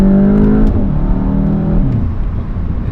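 A tuned VW Mk8 GTI launches at full throttle with wheels spinning, a loud close engine roar with rising then dropping pitch as it pulls away, tire whir underneath.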